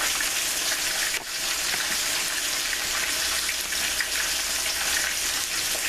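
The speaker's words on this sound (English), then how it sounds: "we're gonna cook them on the other side until that side is nice and brown" Pork chops fry loudly and steadily in a pan, a dense, close hiss of sputtering oil with one brief dip, and no voices.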